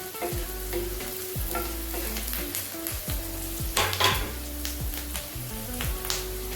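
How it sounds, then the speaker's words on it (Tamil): Curry leaves sautéing in hot oil for an Andhra-style chicken fry, a steady close sizzle broken by repeated spatula stirring scrapes and clicks, fairly soft throughout. "கருவேப்பிலை சிறிது நல்லா வதங்கட்டும்"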